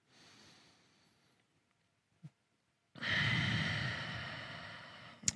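Deep breathing during a hip stretch in a post-deadlift recovery routine: a soft exhale, a quiet pause with a short sniff, then a long loud close inhale or sigh, no talking.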